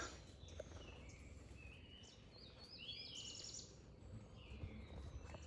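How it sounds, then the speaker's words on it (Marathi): Small birds chirp on a village morning in the Konkan countryside, their faint scattered high calls sitting over a steady background hum. "सकाळी सकाळचीच पाखरांचा आवाज येतोय"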